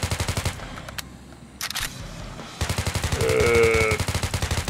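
Rapid bursts of automatic gunfire from the online zombie shooter Crimson Earth, loud and close, with repeated rhythmic volleys broken by a short lull and a few single shots.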